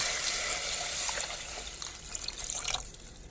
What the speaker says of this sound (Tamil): தண்ணி வச்சுருக்கேன் ஊற்றுறோம் பாருங்கள்